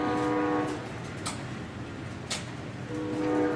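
A train sound effect plays behind a wrestling broadcast: a sustained train horn chord opens and closes the passage, over a steady rumbling rail bed and faint crowd noise.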